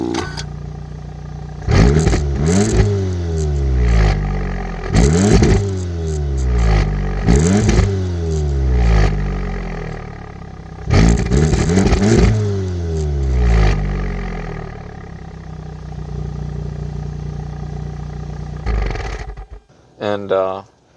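A car engine revs hard several times, rising to a roar and dropping back, with a deep rumbling exhaust; brief clatter at the end.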